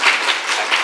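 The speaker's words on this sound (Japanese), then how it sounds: "はい、拍手。" A seminar audience in Shiga gives a brief, loud burst of clapping, many hands at once in a dense, even wash of applause.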